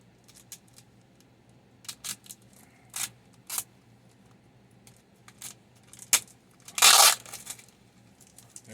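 A knife slices through thick packing tape on a tightly packed package, giving a few sharp close scrapes and rips spaced apart, ending in one longer tearing pull near the end, all fairly quiet with no talk.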